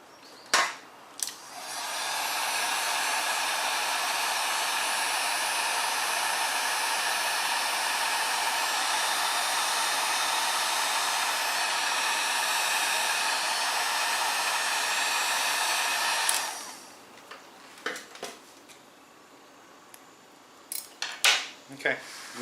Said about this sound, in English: we're going to take the heat gun and heat up the shrink tube